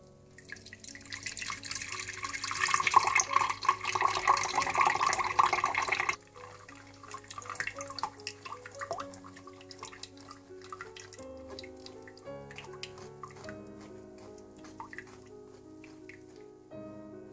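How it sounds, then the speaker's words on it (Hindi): Ground green chutney water for pani puri strained and poured into a jug, a loud trickling, splashing pour for the first six seconds, then fainter drips and light clinks alone. "ग्राइंड करने के बाद आप इसे जग में छान कर डाल दें।"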